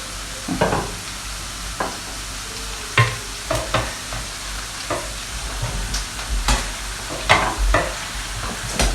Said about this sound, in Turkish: Şöyle kızarıyor bir yandan